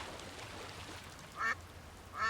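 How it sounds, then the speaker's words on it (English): Ducks in a video game give two short, nasal quacks about a second apart, standing out over a steady hiss of background game ambience. "This noisemaker seems to appeal to the ducks."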